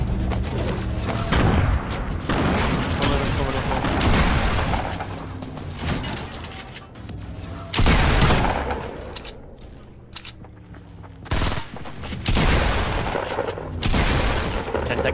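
Heavy Fortnite battle with rapid gunfire bursts and booming rocket explosions, loud and chaotic, with louder blasts at intervals and no speech.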